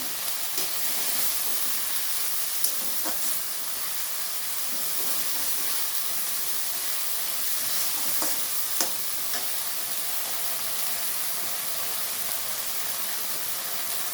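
Slit green chillies sizzle and fry in hot oil in a pan, giving a steady, close frying hiss throughout, with occasional light stirring clicks and pops.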